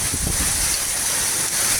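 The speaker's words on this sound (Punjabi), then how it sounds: "ਦੇਖੋ ਕਿੰਨੀ ਤੇਜ਼ ਜਿਹੜਾ ਮੀਂਹ ਹੋ ਗਿਆ" Heavy rain pours down in a Punjab village, a loud, dense, steady roar of water with wind-like hiss filling the whole moment and no distinct voices.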